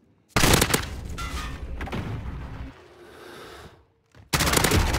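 Rapid automatic gunfire from a gun in Call of Duty: Modern Warfare, a loud sustained burst, then quieter rattling and a brief lull before another loud burst starts near the end.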